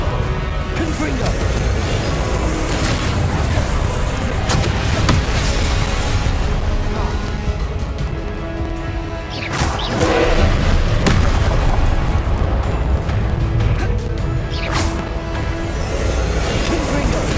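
Repeated booming Confringo fire-spell blasts in Hogwarts Legacy, loud, dense and continuous, with a heavier burst near the middle over a constant game soundscape.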